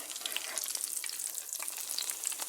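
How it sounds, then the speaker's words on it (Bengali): Jute leaf pakoras fry in hot oil with a dense, steady bubbling sizzle full of fine crackles, close and even throughout, with no talking. "আমি এক তেলের ভিতরে দিয়ে দেব, দিয়ে ভেজে নেব"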